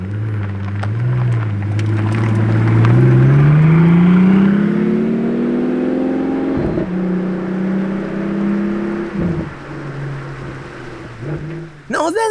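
A Pagani Utopia Roadster pulls out on the road, its engine rumbling and rising in pitch as it revs, loud and close, then settling back. A person talks excitedly over it.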